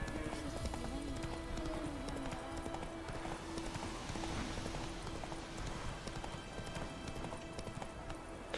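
Hooves of Roach, Geralt's horse in the video game Witcher 3, clip-clop in a steady trotting rhythm across the whole stretch, with a faint musical tone underneath.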